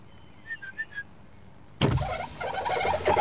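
A car's power window starts winding down with a steady motor whine, and outside air and ambient noise rush in as the glass lowers, after a few faint bird whistles.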